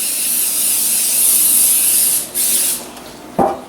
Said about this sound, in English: I take cookie sheets and put some butter flavored non-stick spray on it